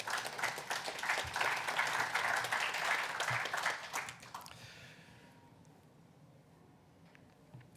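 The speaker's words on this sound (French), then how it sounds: "Nous pouvons les applaudir." An audience claps steadily for about four seconds, then the applause fades out, leaving a quiet room.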